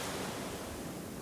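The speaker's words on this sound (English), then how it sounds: "The ocean" Ocean surf at Coco Beach in Dar es Salaam, a steady broadband wash of waves rolling in close and loud without pause, with no voices.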